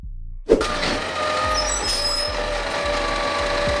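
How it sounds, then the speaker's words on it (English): A mini garbage truck engine idles and rumbles steadily, with a sharp hiss of air brakes near the start and a high whine over the engine. "This is a mini garbage truck designed for small alleys, inner city zones, and residential areas"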